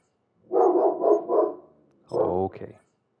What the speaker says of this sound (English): The dog is voicing his displeasure.